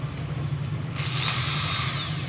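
A power drill bores holes in a gas stove burner, spinning up sharply after a second into a loud, steady whine that holds close and alone to the end.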